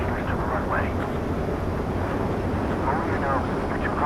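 A fighter jet in Ace Combat 7 roars steadily on its landing approach, a dense, constant engine rumble and wind rush with faint radio guidance talk beneath it.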